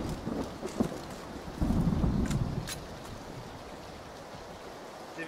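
Steady rain hiss in the video game Battlegrounds, with low rumbling bursts, a louder swell in the middle that eases into a constant wash of falling rain.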